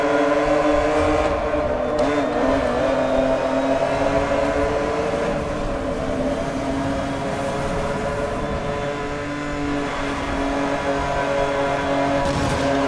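A Lamborghini Countach race car engine roars steadily in Need for Speed: Most Wanted, a loud sustained drone with shifting pitch and brief revving swells, with no talk over it.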